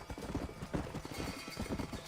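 Horses walk in Red Dead Redemption: Undead Nightmare, a close, steady clip-clop of hooves with no talk over it.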